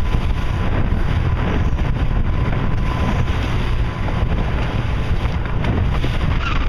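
Steady rushing water and wind buffeting against a moving sailboat, a continuous loud wash with no voices.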